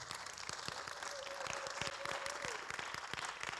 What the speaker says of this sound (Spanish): Dar un aplauso al Señor.